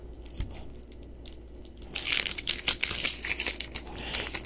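A 1989 Topps wax trading card pack with gum is torn open, loud crinkly waxed paper crackling and tearing close up in repeated bursts after a quieter start.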